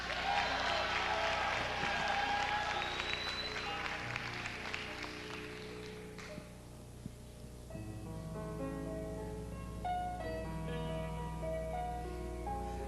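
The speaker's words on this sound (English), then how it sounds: "Please keep that applause going" Audience applause during the evening gown competition at the Miss Gay America 1994 pageant, a dense burst of clapping that fades out partway through, leaving a sustained musical backing.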